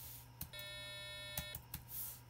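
An electronic tone from an Arduino set to 10,000 Hz beeps steadily for about a second, a thin buzzy whine layered with several overtones, with brief clicks before, during and after it and a low hum underneath.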